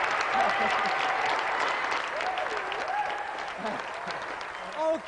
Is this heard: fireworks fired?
no